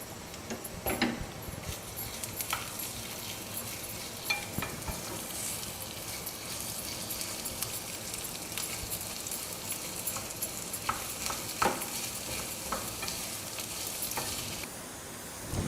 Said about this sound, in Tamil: பெரிய வெங்காயத்தை போட்டு நல்லா ஒரு மாதிரி ப்ரௌன் கலரில் இருக்கிற மாதிரி வறுக்கணும் நம்ம